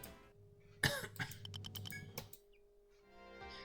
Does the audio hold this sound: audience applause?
no